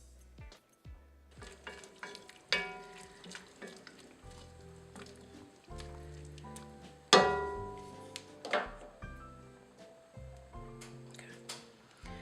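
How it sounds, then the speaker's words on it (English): Collard greens cook down in a lidded pot, giving a soft, steady sizzle with a few sharp metallic clanks of lid and pot, under a faint musical background. "Now we're gonna let those cook down. I'll put the lid on to speed up the process."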